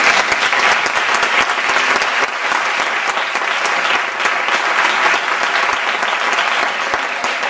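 Sustained audience applause during a talk on the emotional origins of illness, many hands clapping in a thick, even wash that stays loud and steady for the whole stretch.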